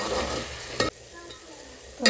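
Tomatoes, ginger and peas for baingan bharta sizzle loudly in a pan while a spoon stirs them, with a sharp scrape near the middle, quieter frying after it, and another scrape at the end.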